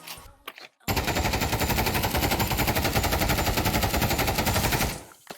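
Sustained submachine gun fire in the Pavlov VR shooter, a dense rapid stream of shots lasting about four seconds after a brief handling clatter, loud and close with no talking.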